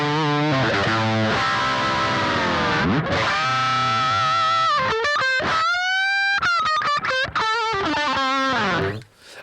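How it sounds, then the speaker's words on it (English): An electric guitar plays through a gritty overdrive pedal into a Boss Katana amp's clean channel, with sustained distorted chords, bends and choppy stabs, ending on a fading note. "let's put the Friedman on the clean channel"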